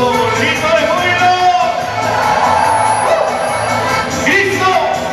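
A large church congregation at a charismatic archdiocesan congress shouts and cheers for joy, a loud sustained crowd roar with whoops and raised voices filling the hall.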